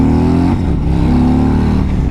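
A 2021 Harley-Davidson Road Glide Special motorcycle accelerating on a test ride, with a loud, steady engine roar close by and the pitch climbing, then dropping at a gear change.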